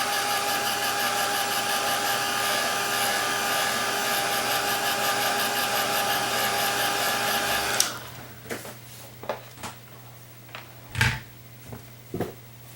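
A hair dryer blows steadily and loudly on acrylic paint for about eight seconds, then switches off, leaving quiet handling clicks and soft knocks.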